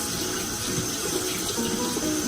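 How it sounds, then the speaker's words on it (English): A Clarisonic Mia Prima brush head, running, is rinsed under warm tap water, giving a steady, close rush of water splashing in a sink with no break and no talking. "I'm just going over with a little bit of warm water, and I'm just kind of massaging the brush head with the machine on."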